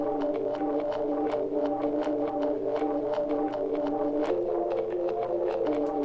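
Sustained, layered synth-like chords resampled from a drum loop, with a steady pulse of crisp percussive hits running through them, shifting harmony near the end.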